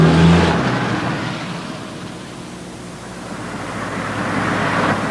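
A car accelerating away after an evasive turn in a 1988 driving film, a broad engine and road roar that dips midway then swells again, loud with no talk.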